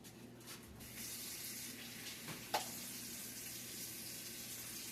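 Kitchen tap running into a sink to wash a knife, a steady quiet stream of water with one brief clink midway, close but faint.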